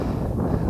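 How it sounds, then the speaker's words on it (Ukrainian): Strong wind buffets the microphone on a fishing boat on an autumn day, making a loud, continuous low rumble with no pauses. "Сильний вітер заважає закидати приманки ультралайтові"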